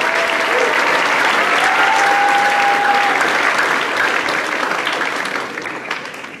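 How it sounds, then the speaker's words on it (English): Sustained audience applause at a school athletic awards ceremony, a dense steady wash of many hands clapping at full loudness that tapers slightly toward the end, with faint talk beneath. "You can give them a round of applause."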